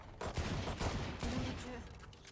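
A Shorty shotgun fired in a video game gives a few quick, loud blasts in close succession, each followed by a brief rough tail, with no talking.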